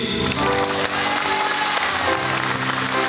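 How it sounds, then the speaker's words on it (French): An audience applauds children after their song at a weekend event in the Cantal, a steady wash of clapping under a sustained musical tone. "Vous pouvez les applaudir."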